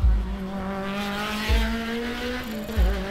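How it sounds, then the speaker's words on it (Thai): A supercar engine roars in the mobile detective game Corrupt with a steady, droning tone that slowly rises in pitch. Three low thumps land at the start, near the middle and near the end. "อ่ะนั่นมันเสียงเครื่องยนต์ของซุปเปอร์คาร์นี่"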